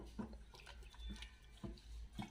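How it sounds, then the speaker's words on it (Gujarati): Cold water poured over freshly strained homemade paneer, heard as faint, intermittent splashing bursts at close range. "હવે આપણે છે ને આ પનીરમાં આની ઉપર છે ને ઠંડુ પાણી રેડી દેશું."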